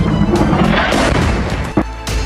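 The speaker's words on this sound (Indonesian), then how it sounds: "Ledakan dahsyat terlihat disertai oleh kobaran api." An airstrike explosion on a residential building in southern Lebanon, heavy booming blasts and crashing debris rumbling loud and continuous, with a sharper crack near the end.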